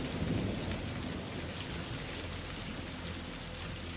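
A thunderstorm brings steady, dense rain with a low rumble of thunder underneath, a continuous quiet wash of sound with no voices.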